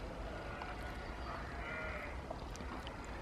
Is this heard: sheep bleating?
yes